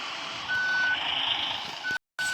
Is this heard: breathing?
no